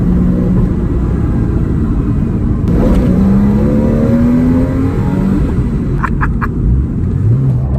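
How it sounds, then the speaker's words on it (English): A Porsche race car engine runs and revs loudly and close by while being driven, a continuous mid-pitched drone with rising and falling revs and no talking over it. "So I'm in my new race car. I'm in the Porsche."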